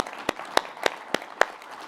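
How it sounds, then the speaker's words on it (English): Applause from an audience at a business conference comes through as five crisp, evenly spaced claps in a slow, steady rhythm, each sharp and close with brief quiet between them. "Yeah, give you guys a round of applause."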